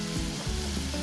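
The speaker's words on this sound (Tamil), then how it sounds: "ஆனியனை வந்து ஃப்ரை பண்ணி எடுக்கிற இது." Onions frying in hot oil for Hyderabadi chicken biryani, a steady loud sizzle and crackle filling the whole moment with no voices.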